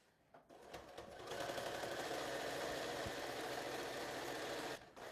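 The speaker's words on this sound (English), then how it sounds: "I'm going to do a small back and forth stitch just to secure your sewing, and just continue." A sewing machine runs a short back-and-forth securing stitch on a fabric shoe bag: a steady, close mechanical whir that starts after a brief rattle and hums evenly for several seconds before stopping, with no talking.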